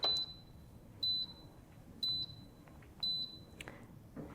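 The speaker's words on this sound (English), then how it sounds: "You're probably able to hear that the treadmill beeps when you get it started" A Wellfit TM007 treadmill gives four short, bright electronic beeps about a second apart as it starts up, fairly loud against a quiet room.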